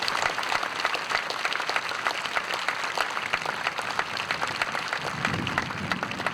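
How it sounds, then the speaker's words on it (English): Sustained applause from an audience at a memorial event, honoring the pilots who flew a missing man formation; dense, steady clapping fills the whole stretch with a faint murmur of crowd beneath. "So let's give them a round of applause."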